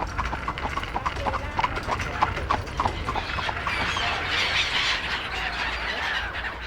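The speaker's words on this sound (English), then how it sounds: "take a swift carriage ride along the promenade" A horse-drawn carriage clip-clops along a lakeside promenade in winter, hooves striking in a steady, brisk rhythm, close and clear, over a background of voices, general bustle and occasional squeals.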